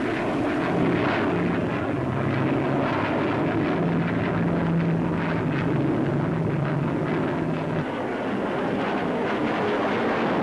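A Gloster Javelin jet aircraft flies at the 1952 Farnborough Air Show, a loud continuous broadband jet roar with a steady droning hum underneath, sustained throughout.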